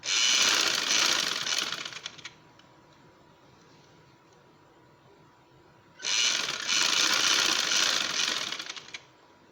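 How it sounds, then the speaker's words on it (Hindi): A sewing machine stitches right along the edge of a shirt in two loud runs of about two seconds each, separated by a quieter gap with no talking. "बिल्कुल किनारे पे सिलाई लगानी है।"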